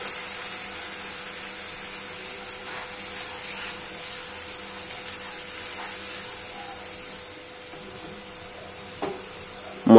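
A spice paste mixed with water sizzles and bubbles steadily in a pan for a dal and pointed gourd curry, a close, even hiss with a sharp clatter at the very end.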